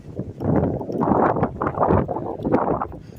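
Breezy wind at nine on a Sunday morning outdoors, near a church, buffets the microphone in loud, rumbling gusts that swell and fade over a few seconds with no voices.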